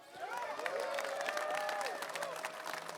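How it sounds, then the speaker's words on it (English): Crowd applause at an outdoor lobby day rally, steady clapping with some cheering and raised voices, sustained throughout at moderate distance. "let's get a round of applause for Phil Van Cleven, VCDL."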